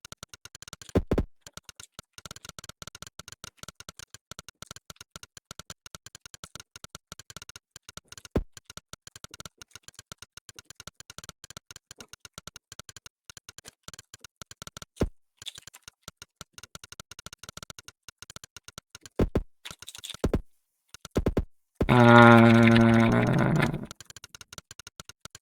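Rapid, continuous key clicks on a computer keyboard fill a fast typing test, a close and steady patter with occasional sharper taps, ending with a brief burst of a voice speaking.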